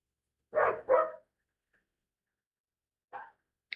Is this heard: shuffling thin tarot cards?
no